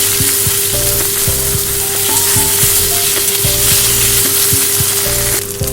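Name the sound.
ginger paste and onion frying in a pan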